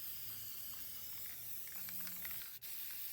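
Aerosol Plasti Dip rubber coating sprayed in a heavy coat onto car wheel rims: a steady, faint continuous hiss that runs throughout, with one very brief gap near the end.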